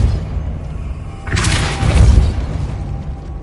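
A Depulso spell is cast in the Hogwarts Legacy video game, a single loud magical burst that swells into a booming, crackling rush and then fades, heard alone without talk.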